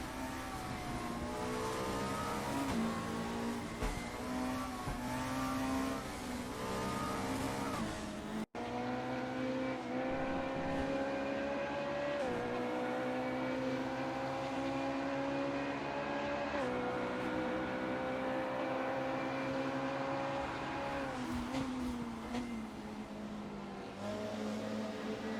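A close pack of race cars in a sim racing game at Autodrom Most, engines whining and shifting pitch as they accelerate and brake together, continuous and layered, with no talk.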